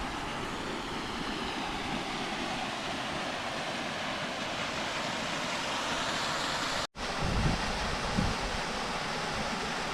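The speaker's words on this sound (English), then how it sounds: "As you can probably hear in the background," Steady broadband rush of flowing water near a partially frozen lake and waterfall on a cold, windy day, a constant hiss with a brief dropout and a few low thumps near the end.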